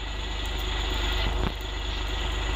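Steady droning engine of a dump truck on a test drive in Bus Simulator Indonesia, a continuous low rumble at even level with a brief shift near the middle.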